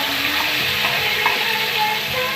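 Tomatoes go into garlic and onion already sautéing in a pan, giving a steady close sizzle and frying hiss with occasional stirring scrapes throughout, no voices.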